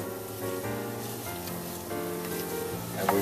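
Onions and leeks cooking gently over low heat in a pan, a soft steady sizzle with a faint crackle running continuously, no talking.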